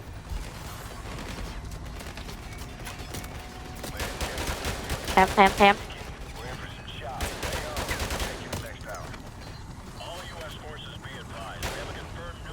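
Gunfire in the video game Call of Duty Modern Warfare Remastered, with bursts and heavier blasts standing out around the middle, running under excited talk from players throughout.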